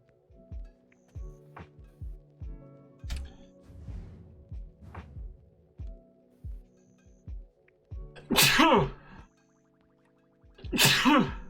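Two loud, close sneezes burst out near the end of the clip, following a quieter stretch of soft repeated thumps and low hum.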